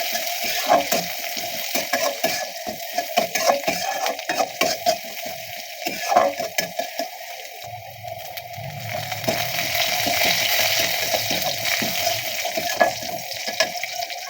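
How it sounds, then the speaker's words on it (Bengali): Chopped onions fry in oil with fenugreek and cumin seeds, making a steady close sizzle broken by frequent scraping stirs and clatter, with a rushing hiss that swells toward the end. "তারপর পেঁয়াজ কুচি দিয়ে ভালোভাবে ভেজে নিচ্ছি"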